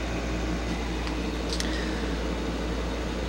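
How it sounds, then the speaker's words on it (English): An air conditioner runs through a warm March day in Texas, giving a steady, even broadband hum and hiss that stays constant throughout, with no talk over it. "so the air conditioner's on."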